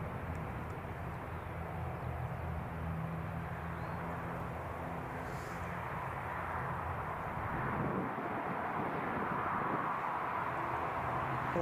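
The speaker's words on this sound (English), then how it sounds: "I can hear something that sounds very turbopropish" A turboprop aircraft taxies at Newcastle International airport, its propeller engine droning steadily at a moderate distance with a low hum that grows slightly louder toward the end.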